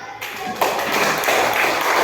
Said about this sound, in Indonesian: Jadi dah mantap, tepuk tangan dulu.